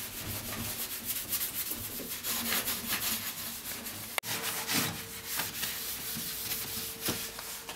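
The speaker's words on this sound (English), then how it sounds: "Just give it a good little scrub." A cooker is scrubbed with quick back-and-forth strokes of a brush or pad during a deep clean. The rubbing is close and steady, briefly broken by a sharp knock, and no one speaks.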